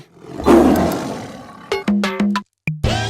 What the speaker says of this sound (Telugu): లోపల పులి